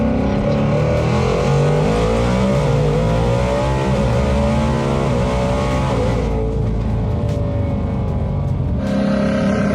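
A 1600-horsepower four-wheel-drive Ford F150 truck accelerating hard on the street, a loud, close engine roar rising steadily in pitch through the gears, with a brief drop and shift near the end.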